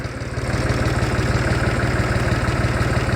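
An International 484 tractor engine idles steadily nearby, a low rhythmic diesel chug with even pulsing and a slight knock, running alone without voices.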